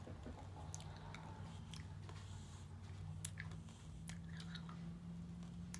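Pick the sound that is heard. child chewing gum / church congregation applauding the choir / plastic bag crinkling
child chewing gum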